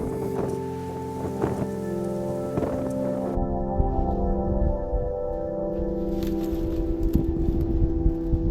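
Strong wind buffeting along Route 66 in the Texas and New Mexico desert, a rough, gusty roar with low rumbling and intermittent thumps, loud and close.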